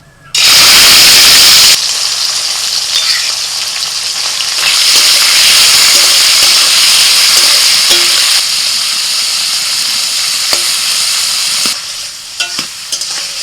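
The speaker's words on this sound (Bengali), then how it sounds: "এবার ওই তেলের মধ্যে চিংড়ি মাছটা ভেজে নিই" Prawns fry loudly in a little oil left in a wok after crisping onions, a dense roaring sizzle that bursts in, eases slightly, then crackles on with occasional sharp spits.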